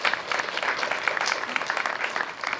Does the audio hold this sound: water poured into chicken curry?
no